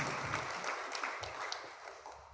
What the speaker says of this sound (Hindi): हम प्रभु को एक ताली देकर, जोरदार ताली देकर प्रभु को धन्यवाद दें